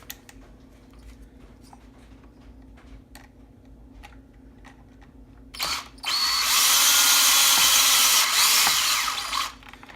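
A screw is driven into the rear chassis brace of a 1/10-scale E-Revo RC car: light ticks and taps of handling come first, then a loud, close power-driver whir runs steadily for about three seconds before stopping.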